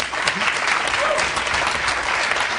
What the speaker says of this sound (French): Hakim, c'est comme ça que vous applaudissez pour accueillir le président